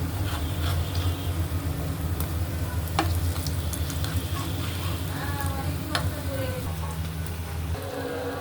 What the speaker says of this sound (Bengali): শুধু ভাজা পোড়া আর ভাজা পোড়া, আল্লাহ জানে একটার সাথে একটা লেগে যাচ্ছে কেন।